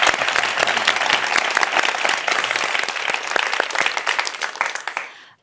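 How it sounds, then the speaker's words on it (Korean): A studio audience at a Christian TV lecture program breaks into loud, dense applause that holds steady for several seconds and then quickly fades out. "네, 박수 한번."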